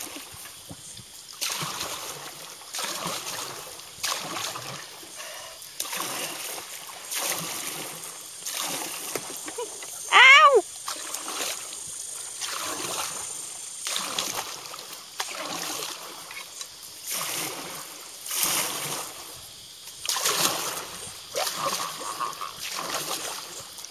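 Canoe paddled on the water at Lane Cove, soft rhythmic paddle strokes and light splashes repeating every second or so, with a brief whistle-like squeak midway and faint background murmur.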